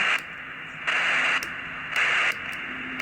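Hissing static from a PRC-320 military radio swells and drops in bursts as it is tuned, with louder noisy stretches alternating with quieter ones.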